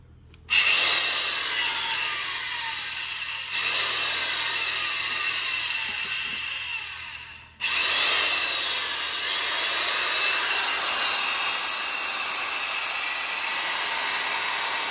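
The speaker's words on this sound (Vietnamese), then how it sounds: "qua cái độ búa nè, búa cũng mạnh lắm nha" A Japanese electric rotary hammer drill of around 500–600 W runs in hammer mode, a loud, close, continuous harsh buzz with rapid hammering texture, cutting out briefly and restarting twice.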